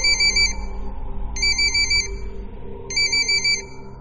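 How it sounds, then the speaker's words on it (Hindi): A mobile phone rings loudly with an electronic ringtone, three bright repeated bursts evenly spaced over a low background rumble in a quiet room. "तभी उस शांति को भंग करते हुए पुष्कर का फोन बजा।"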